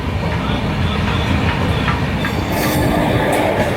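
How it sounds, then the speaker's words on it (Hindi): The Ahmedabad Gorakhpur Express rolls toward Ballarshah, a loud steady roar of carriages with rhythmic wheel clatter and a faint squeal, heard from on board. "गाड़ी अभी बल्लारसा पहुंच रही है"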